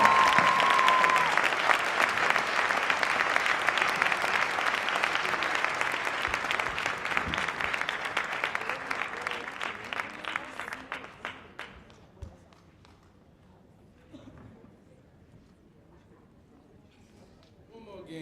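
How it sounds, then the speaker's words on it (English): Audience applause at an opening event for a prison-related program, a loud sustained ovation from a large crowd lasting about ten seconds before fading into scattered claps and quiet room noise. "Please give a round of applause for Mr. Eddie Conway."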